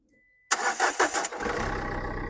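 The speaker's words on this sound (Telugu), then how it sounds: "సింగిల్ సెల్ఫ్లో బండి స్టార్ట్ అవుతుంది" A motorcycle engine turns over on a single press of the electric self-starter and fires at once, a few loud cranking bursts settling into a steady close-up idle.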